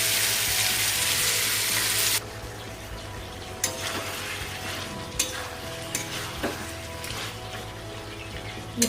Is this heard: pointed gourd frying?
yes